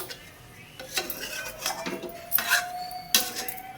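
Meat curry with bottle gourd and potato stirred in a metal pot, a ladle clanking and scraping against the sides in uneven strokes, close and moderately loud, with no voices.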